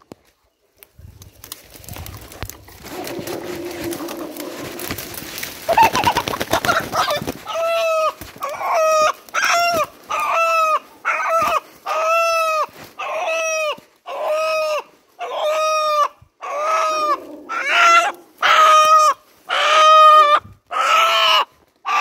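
A neighbour's rooster is caught at night and crows repeatedly, loud and close, in a steady run of harmonic calls after a stretch of rustling and handling noise.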